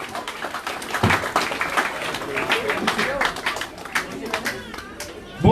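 Audience clapping and applause at an outdoor Lokgeet folk song competition, honouring the dholak player; a dense, steady patter of many hands lasts throughout with crowd noise and some voices mixed in.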